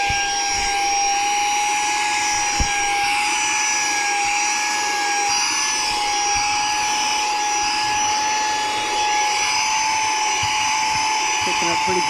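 A Saker 3in1 vacuum cleaner runs at regular speed with its light on and no attachment, giving a loud, steady, close whine with a constant high tone that holds unbroken for the whole stretch.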